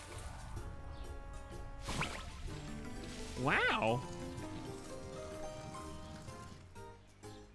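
Rain falling in a Yoshi video game, soft dripping and pattering throughout at moderate level, with a person speaking briefly over it.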